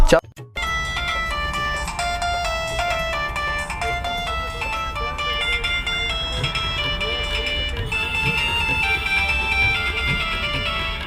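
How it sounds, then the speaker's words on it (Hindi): A bright electronic ringtone melody plays steadily with layered tones and a low background rumble, and voices can be heard faintly underneath. "जाजी साहब को फोन"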